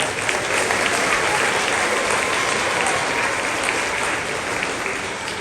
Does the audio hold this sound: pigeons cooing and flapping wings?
no